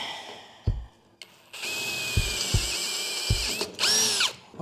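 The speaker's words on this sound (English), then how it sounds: "got my 5mm drill bit" A power drill with a 5mm bit whirs loudly up close, running steadily for a few seconds, then revving higher, with a few sharp knocks around it.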